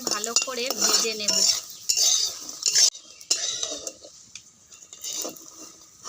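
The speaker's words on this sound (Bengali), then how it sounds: "প্রথমে বড়িগুলোকে ভালো করে ভেজে নেব।" Lentil dumplings fry and get stirred in a pan: a utensil scrapes and clatters against the metal in bursts, over a soft sizzle of oil, with no talk.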